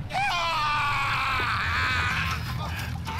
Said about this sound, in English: Somebody's screaming his mind off here.